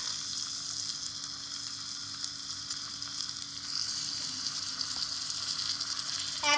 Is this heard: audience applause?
no